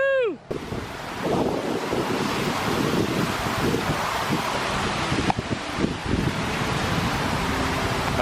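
Strong gusting wind roars and buffets across an outdoor mini golf course, a dense, rumbling rush that stays loud throughout, with a brief chirpy tone at the very start.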